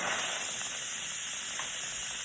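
A quick cooker vents steam after its release button is pressed, giving a loud, steady, close hiss that continues unbroken.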